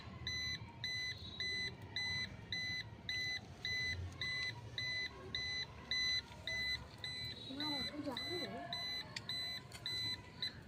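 Metal detector sweeping for gold gives off a steady train of high electronic beeps in regular pulses throughout, with a person talking over it.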